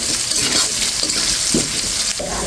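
Whole spices, cardamom, a crushed bay leaf and cumin, fry with potatoes in hot oil, a loud continuous sizzle broken by scraping stir strokes near the end.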